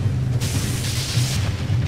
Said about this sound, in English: creates a little explosion